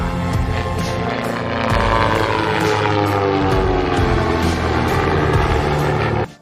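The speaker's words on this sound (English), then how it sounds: "Since the Skymaster also has a front engine which operates in non-turbulent air, its sound is different from a purely rear-propelled plane." Piston engines of a Cessna 337 Skymaster push-pull twin drone steadily with a loud, throbbing propeller hum that holds for several seconds, then cuts off abruptly.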